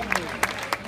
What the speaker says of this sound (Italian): Un applauso a Valerio Bicchiere